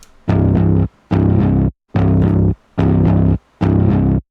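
Five short bursts of overdriven electric guitar chords through a drive pedal and amp simulator, each held about half a second with brief gaps between, loud and gritty with a buzzy distorted edge.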